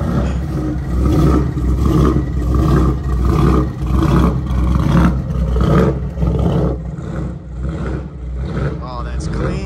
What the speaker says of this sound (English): If you guys can't hear the car behind me, it made another pass.